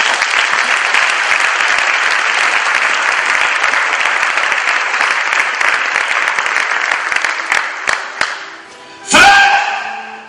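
Sustained applause fills a church, loud and even for about eight seconds before tapering off, followed by a sharp thump and a short ringing tone near the end.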